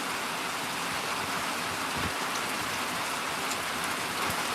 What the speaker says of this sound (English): I'm just sitting on the front porch watching it rain, listening to it hit the tin roof